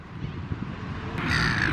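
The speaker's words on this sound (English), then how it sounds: "I'm pretty sure these seagulls are going to attack." Gulls calling near a beach at Bondi, Sydney, their harsh caws rising loud and close over a steady background murmur of wind and surf.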